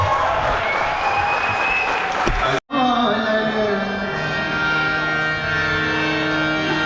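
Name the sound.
round of applause at a Divali celebration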